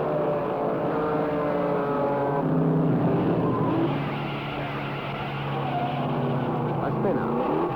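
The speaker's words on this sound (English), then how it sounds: "A spin out, but the leaders roar on." Race cars, including a Javelin, Barracuda and Camaro, roar past on a circuit as one spins out, a loud continuous engine drone with shifting pitch and no clear breaks.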